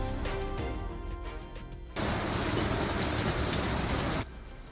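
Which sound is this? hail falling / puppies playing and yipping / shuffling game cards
hail falling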